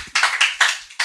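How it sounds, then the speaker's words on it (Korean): Church congregation at a Wednesday worship service claps briefly, four or five distinct, close rhythmic claps in quick succession. "박수."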